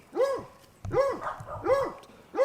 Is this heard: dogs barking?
yes